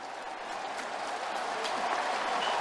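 A football stadium crowd at a North Carolina vs NC State college game roars and applauds in a steady wash of noise, fairly distant, with no clear voices standing out.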